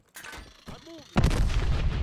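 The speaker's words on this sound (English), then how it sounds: "RPG on the balcony!" RPG fire in Call of Duty Black Ops Cold War: a few sharp reports, then a heavy booming blast that rumbles loudly through the rest of the short moment.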